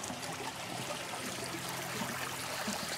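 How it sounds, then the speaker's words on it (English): A shallow creek trickles and burbles steadily, a faint, even wash of running water with no voices. "It's a little shallow creek."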